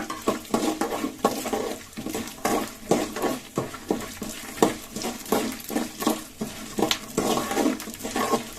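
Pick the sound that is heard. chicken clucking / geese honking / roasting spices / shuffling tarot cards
roasting spices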